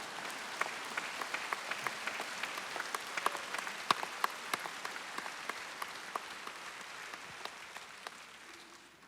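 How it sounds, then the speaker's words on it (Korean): An audience at a senior mission conference breaks into steady applause, many hands clapping with a few sharper individual claps standing out, fading slightly toward the end. "박수를 한번 치셔야 될 것 같은데"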